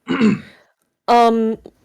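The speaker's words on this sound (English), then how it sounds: "I was just clearing my throat." A person clears their throat close by: a short rough rasp, then a brief pause and a voiced, groan-like throaty sound.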